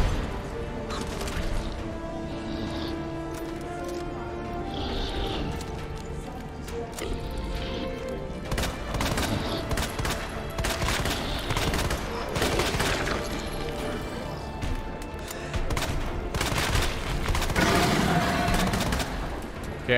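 Gunfire in Resident Evil 2 Remake, repeated loud shots and crashing impacts over a dense, continuous game soundscape, with occasional louder bursts throughout.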